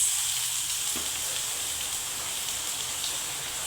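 Carrots and beans sizzle in oil in a pan while cooking vegetable cutlets at home, a continuous hiss from start to finish with a faint tap or two of stirring.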